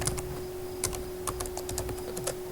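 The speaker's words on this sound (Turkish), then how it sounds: "Buraya adımı yazayım hemen." Quiet computer-keyboard typing of a name: scattered soft key clicks in short irregular bursts over a faint steady electronic hum.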